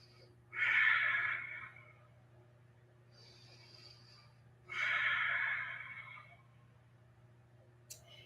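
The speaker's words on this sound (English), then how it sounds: "Long, deep breathing." Slow, deep yoga breathing during a Kundalini morning session, two long breaths a few seconds apart, close and airy, with quiet between them and no talking.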